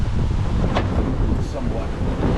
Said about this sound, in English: It's a little windy, but at least I'm protected.